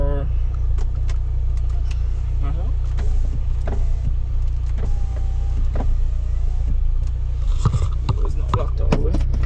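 An R56 Mini's electric window motor whirs and hums over a steady idling engine in a close, noisy car cabin, with faint clicks and rattles and a person talking over it.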